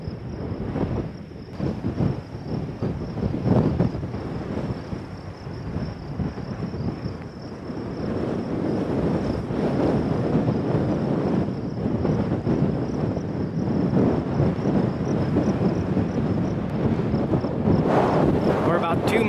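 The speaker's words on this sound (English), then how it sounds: "I'm getting real tired of these 40-knot wind gusts pushing me around all day." Strong gusts of up to 40 knots buffet a hiker on a Continental Divide mountain trail, a loud, continuous roar of wind rushing across the microphone that swells and surges in waves for the whole stretch, with no talk.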